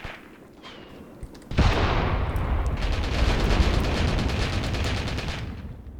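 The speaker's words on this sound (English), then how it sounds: "the tank is actively shooting back at us" In Graviteam Tactics, a heavy blast erupts about a second and a half in, and sustained rattling gunfire and battle rumble follow. The fire stays dense and loud, with a continuous rapid crackle, until it tapers slightly at the end.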